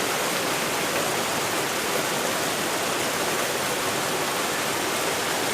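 A waterfall in Pachmarhi pours with an unbroken, loud, hissing rush of water. The sound is close and even throughout, with no one speaking.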